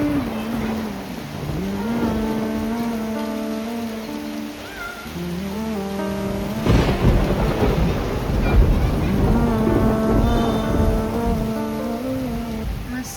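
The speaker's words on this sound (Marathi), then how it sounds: "As I wished for, the rain is here." Steady rain pours in a dense, continuous hiss that swells louder in the second half, while a wavering, sustained tonal voice sounds over it on and off.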